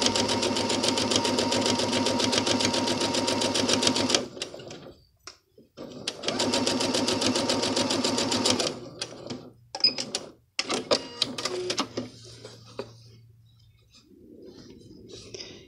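A sewing machine stitches a seam along a marked line on a crazy quilt block, running in two steady buzzing bursts of about four and three seconds, with lighter handling clicks and brief pauses between them, close and clear.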